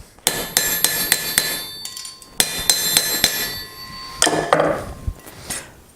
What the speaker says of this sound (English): now we want to just kind of hammer that around that horn, keep it nice and flat, make sure it's not twisting on us